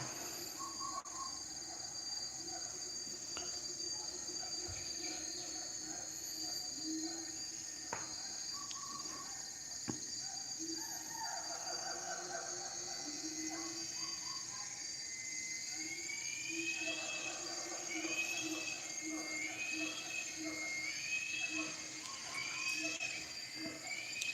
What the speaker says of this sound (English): Not quite sure what's going on in the Sumatran rainforest behind me